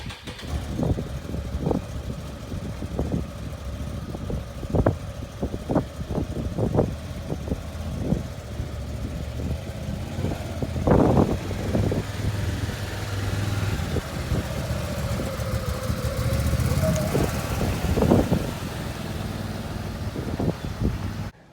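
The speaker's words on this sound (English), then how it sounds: "2021 Can-Am Commander XT 1000R. I just picked this up 2 days ago." A 2021 Can-Am Commander XT 1000R side-by-side drives along a road with its engine running steadily, punctuated by repeated knocks and bumps over the ride and a brief rise in engine note midway; no one speaks.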